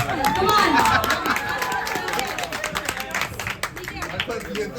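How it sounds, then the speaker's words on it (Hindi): An audience at the press conference for the Hindi film Mere Husband ki Biwi claps in a rough, scattered burst, with crowd chatter and voices running underneath throughout. "A round of applause."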